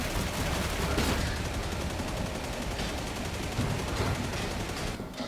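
Sustained full-auto fire from a Warhammer 40K Darktide autogun on the Mauler difficulty, a dense rapid stream of shots that runs loud and unbroken for several seconds with no talking.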